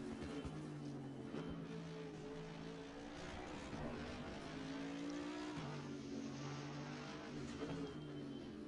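Race cars on a victory lap around the track, engines droning steadily at a distance with shifting pitch as they circulate, a continuous moderate roar throughout.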